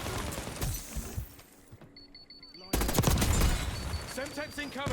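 Rapid automatic fire from a KSV weapon in the shooter Black Ops 6, loud bursts of gunfire that drop out briefly mid-clip and then resume harder, with some cracking impacts and game effects layered in.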